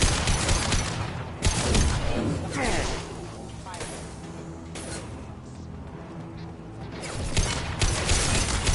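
Video game gunfire in Mass Effect 2, sharp shots scattered through a noisy firefight with whooshes and mechanical clatter, a few louder cracks standing out while voices talk over the action.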